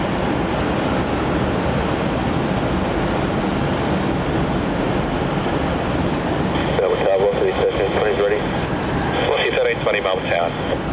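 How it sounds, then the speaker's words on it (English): A China Eastern Boeing 787 Dreamliner, flight MU738, departs runway 16 at Melbourne Airport with a broad, steady jet roar that holds throughout, while a voice talks over it. "787 Dreamliner heading off to Shanghai as MU738 operating for China Eastern is about to depart off of runway 16"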